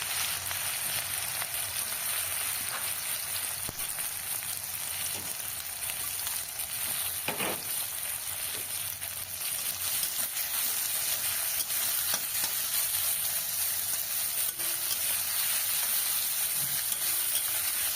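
Chopped onions frying in a pan for a mustard greens bhorta, with a steady close sizzle and crackle all through and a few faint stirring knocks, no voices.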